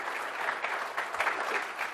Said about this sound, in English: please give a warm